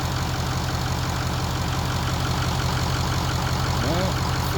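A refreshed 6.0L Powerstroke diesel engine idles on a test run, a steady, loud, low rumble with an even rhythmic knock throughout and no breaks.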